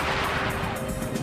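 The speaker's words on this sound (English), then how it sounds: "German 88mm guns take out Soviet tanks at long range" Dense, continuous roar of heavy gunfire from German 88mm guns firing at Soviet tanks during the battle for Berlin, loud and sustained with no distinct gaps between blasts.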